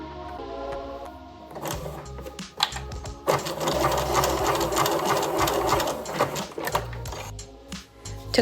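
Sewing machine stitching a fabric casing closed around elastic, a close, steady mechanical whir running for several seconds after a few starting stitches, with a short stop near the end.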